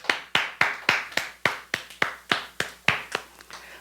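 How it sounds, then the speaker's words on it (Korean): A congregation at a Friday worship service claps in rhythmic unison, about a dozen crisp, evenly spaced claps that fade slightly at the end, with no talking. "우리를 돌보시고 우리와 함께 하시는 우리 하나님께 감사의 박수 드리겠습니다"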